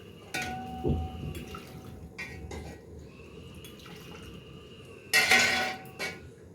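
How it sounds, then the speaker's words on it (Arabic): Broth ladled into a pot of thickened tomato sauce for molokhia, with pot and utensil clinks, liquid pouring and a loud splashing burst near the end, no talking. "انزل عليهم بكبشتين شوربه"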